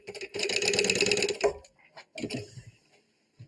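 A sewing machine stitches across a strip of fabric binding in one loud, steady whirring burst of about a second and a half, then stops. Short, fainter mechanical clicks and handling follow.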